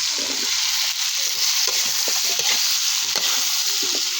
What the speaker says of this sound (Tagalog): Ginisa sa star margarine. Silulunod ko na yung sayote eh.